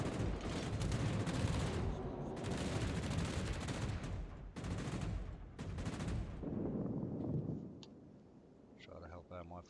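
Anti-aircraft and cruiser guns on the Russian cruiser Budyonny in a naval video game, firing at torpedo bombers in a dense, continuous rumbling barrage with sharp reports that thins out near the end, under someone talking.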